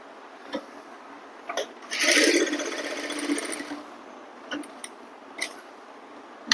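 Short bursts of a sewing machine stitching fabric along a neckline, one longer run of rapid mechanical whirring in the middle and several brief clicks and taps around it, close and fairly quiet.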